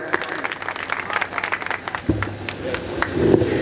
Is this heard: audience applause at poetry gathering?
yes